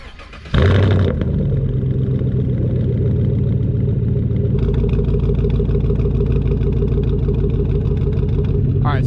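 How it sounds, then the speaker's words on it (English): A Chevrolet Silverado with a 5.3 V8 and true dual catback straight-pipe exhaust starts and settles into a loud, steady, lumpy idle that runs close to the microphone throughout. "as you can hear, when it's idled down, you got a nice little lumpy tone"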